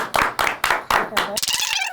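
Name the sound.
people clapping hands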